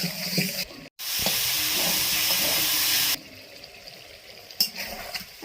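Cauliflower frying in an oil-filled pan for a Bengali-style roast, giving a loud, steady sizzling hiss for about two seconds after a brief pause, then settling to a softer crackle with occasional stirring knocks.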